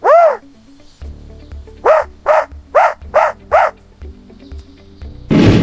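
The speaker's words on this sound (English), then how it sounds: "This is an Akita. It is loyal, strong, and very brave." An Akita barks five times in a steady, evenly spaced run, loud and close, with a whine-like yelp at the start and a noisy burst at the end over a low background hum.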